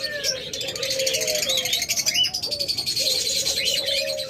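A master pair of lovebirds chirps up close in a busy, overlapping stream of shrill tweets and short calls, with no talking.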